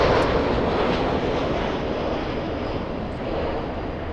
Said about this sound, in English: we'll give our full attention to the arriving 7-4